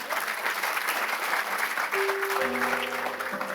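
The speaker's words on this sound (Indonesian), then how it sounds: "berikan tepuk tangan yang paling meriah untuk yang support" Steady, dense applause from a seated crowd at an event, sustained throughout, with a held musical tone entering partway through.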